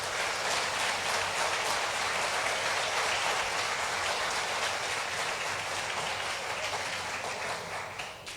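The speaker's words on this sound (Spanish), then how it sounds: "puedes tú también darle un fuerte aplauso al Señor" A church congregation at a Spanish-language service gives loud, dense applause for the Lord, a sustained roar of many hands clapping at once that eases only slightly near the end.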